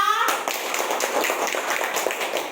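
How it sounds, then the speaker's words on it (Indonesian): A class of pupils claps hands for a classmate, a steady patter of many quick close claps following a brief voice at the start. "Boleh tepuk tangan untuk Raya"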